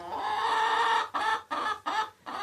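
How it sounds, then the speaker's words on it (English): Hens clucking inside their backyard coop, a dense, close chorus that breaks into several short bursts separated by brief pauses. "it's time to let the chickens out of their coop"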